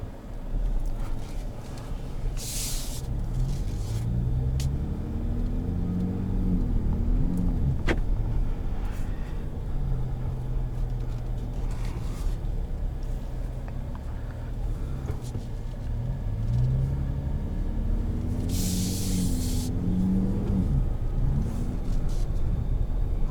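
The engine of a 2021 Ford F-150 Raptor 37 Performance truck while driving gives a steady low rumble from inside the cab, with revs rising and falling in waves and a few brief rushing bursts over it.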